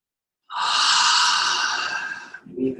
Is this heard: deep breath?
yes